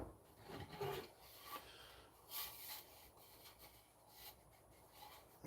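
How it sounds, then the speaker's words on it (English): Rough, rasping strokes of sanding on wood in a garage, repeated in uneven bursts, fairly close and moderately loud, with no one talking. "Do some sanding."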